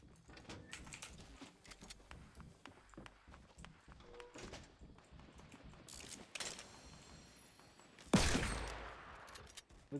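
Gunfire in a squad shooter video game comes as scattered distant shots and bursts amid footsteps and movement, fairly faint overall, with one louder burst near the end.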